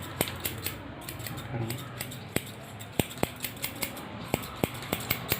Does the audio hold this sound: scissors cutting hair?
yes